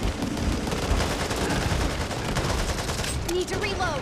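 Continuous rapid gunfire in the co-op zombie shooter Back 4 Blood, loud and close, a dense unbroken volley with a few ringing tones near the end, voices faintly underneath.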